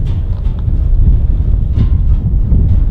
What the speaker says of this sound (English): That wind's pushing hard too.